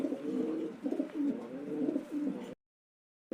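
Racing pigeons coo in a steady, close, repeated rumbling run for about two and a half seconds, then brief silence before the cooing resumes.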